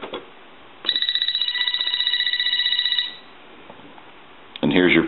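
AT&T 4200 cordless telephone ringing through its piezo buzzer, a single warbling electronic ring lasting about two seconds, near and clear, followed by quiet and a brief handling noise at the end.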